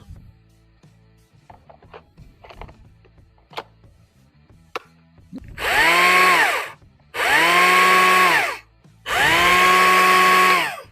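A STIHL AK series battery leaf blower whirs up three times in short bursts, each rising quickly to a loud, steady high-pitched whine and then cutting off, after a stretch of quiet knocks and handling noise.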